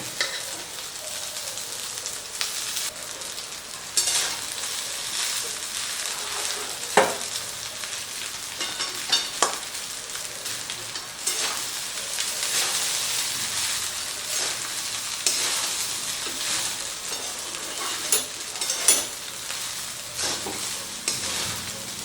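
Cooked rice being stir-fried with lightly fried vegetables in a hot pan, a constant near sizzle broken by repeated scraping strokes and occasional sharp clacks of the spatula.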